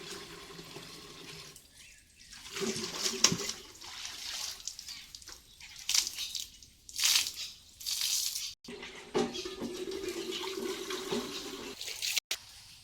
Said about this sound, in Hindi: अब बाल्टी को अच्छे से खंगार लेंगे, एकदम फ्रेश फ्रेश पानी ले चलेंगे।